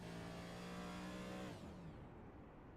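A race car in the iRacing video game at Richmond Raceway holds a steady high engine drone that suddenly drops away and fades into a lower, quieter hum, with no voices over it.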